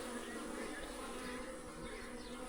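Bees at a beehive give a faint, continuous buzzing drone that stays even and unbroken for the whole short stretch.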